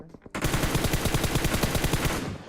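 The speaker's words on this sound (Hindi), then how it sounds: "अब पहले तो मैं टैप टैप गोली चलाता हूं" Rapid automatic gunfire in PUBG Mobile, a dense burst of close, loud shots in fast even rhythm lasting about two seconds after a few brief taps.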